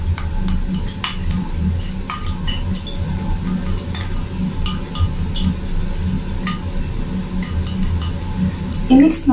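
A spoon stirs honey face mask ingredients in a small bowl, making repeated clinks and scrapes while someone talks.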